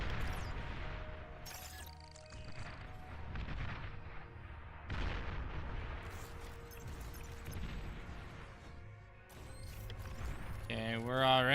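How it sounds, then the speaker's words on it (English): Incoming rockets and artillery explosions in the real-time strategy game Beyond All Reason, a continuous barrage of booming impacts and crashes with layered battle noise throughout. "They have a lot of rockets coming in."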